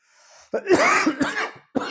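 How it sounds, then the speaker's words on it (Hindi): A close, loud burst of coughing, several rough coughs in quick succession that break into throat clearing, after a brief quiet start. "थोड़ी खांसी हो रही है, कोई दिक्कत नहीं है।"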